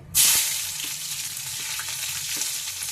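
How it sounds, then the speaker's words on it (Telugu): Onions dropped into hot oil for a prawn, tomato and drumstick curry, a sudden loud sizzle that settles into steady frying hiss with faint stirring taps. "చూడండి ఆయిల్ వేడెక్కింది. ఇప్పుడు ఆనియన్స్ వేసుకుందామండి."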